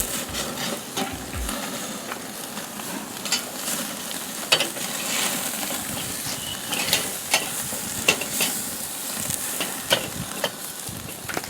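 Dry-brined steaks sear in a hot pan, giving a continuous close sizzle with scattered pops and occasional scraping knocks as they are moved, and no voices.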